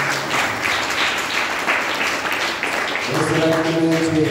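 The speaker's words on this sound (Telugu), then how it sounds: "మరి చప్పట్లు కొట్టరా." A church congregation claps together in a loud, dense burst, and the applause fades into a voice and tonal music near the end.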